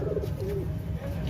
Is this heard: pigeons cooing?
yes